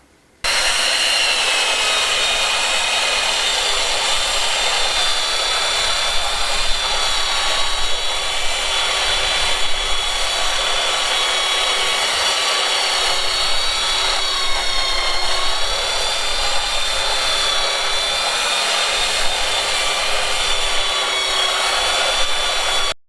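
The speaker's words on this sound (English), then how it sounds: "the easiest way to sand it is when it's in one big piece" A power sander works along a long wooden board in a farmhouse kitchen renovation, making a continuous close high-pitched whirring drone with a faint warble that runs alone for over twenty seconds.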